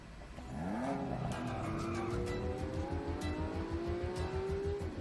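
A speeding car roars past with a steady, rising engine drone and a squeal of tires, loud and continuous throughout.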